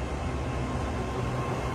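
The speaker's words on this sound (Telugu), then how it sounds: "మన బ్యాంకాక్ మెట్రో ట్రైన్ చాలా బాగుంది" Bangkok metro train running, a quiet, steady broadband rumble of the red-and-white train throughout, with no voices.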